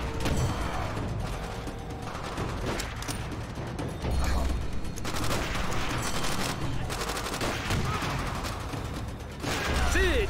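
Machine gun fire in Call of Duty World at War rattles almost continuously in close, loud bursts, mixed with clanking mechanisms and battle noise.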